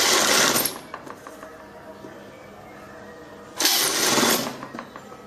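Sewing machine stitching a blouse, two loud bursts of close mechanical whirring, one at the start and another after a quiet pause, with faint handling noise between.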